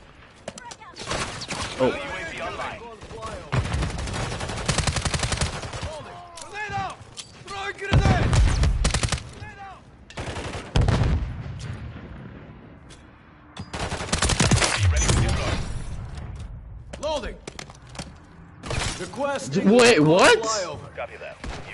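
Bursts of automatic gunfire from the shooter game Warzone crack out in loud, separated volleys with brief silent gaps between them, and a player's voice speaks between bursts.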